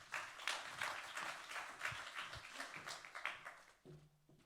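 Audience applause for a departmental vice-president at a conference, moderate scattered clapping that thins out and fades toward the end.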